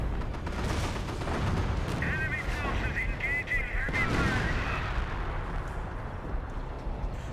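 Artillery barrage exploding in the real-time strategy game Company of Heroes, a dense wash of booming impacts and gunfire rolling continuously, loud and steady, with a whistling shell sound in the middle.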